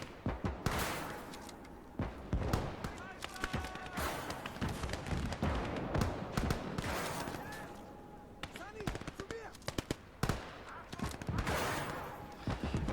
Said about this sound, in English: they're getting decimated by the machine gun fire on the Soviet side